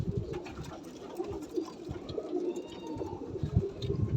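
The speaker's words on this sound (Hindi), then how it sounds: "बहुत ही ज़बरदस्त कबूतर है" Low, soft cooing from a high-flying pigeon in a murmuring, repeated rhythm amid faint background shuffling and rustle.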